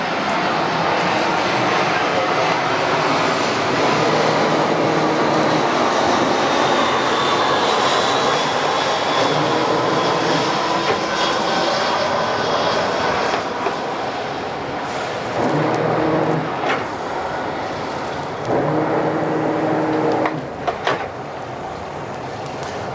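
A low-flying airplane roars over a sailboat anchored near a runway, its loud engine drone continuous and close throughout before easing slightly near the end.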